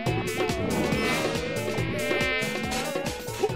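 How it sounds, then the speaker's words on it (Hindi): A cartoon mosquito buzzes loudly and continuously, a high whining drone with shifting pitch over background music. "ओफो, फिर से मच्छर,"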